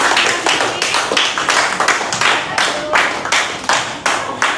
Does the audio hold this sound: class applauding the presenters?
yes